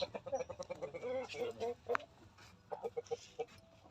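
A rooster clucks in short, rhythmic bursts close by, with several calls in a row and other fowl sounds and a voice faintly mixed in.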